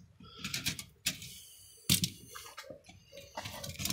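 Plastic keycaps snapped and pried off an old Logitech Internet keyboard during a teardown, sharp clacks and rattling clicks in uneven bursts, close and fairly loud, with no talking.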